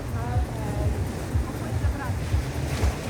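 Sea waves surge and slosh loudly and continuously inside a cave, a dense close-up roar of churning water with no pause.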